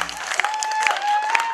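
Audience at a school KVN comedy team contest clapping, a few distinct sharp claps over a sustained whistling tone and light crowd murmur, short and moderately loud.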